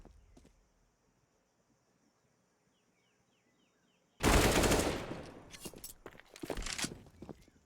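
Gunfire in a professional Counter-Strike match on the Ancient map, a faint quiet stretch followed by a sudden loud burst of rapid rifle fire and a second shorter volley, close and sharp.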